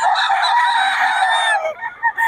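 A ten-month-old national-banded young stag gamecock crows once, a loud, close, strained call held for about a second and a half before trailing off into a few short, softer noises.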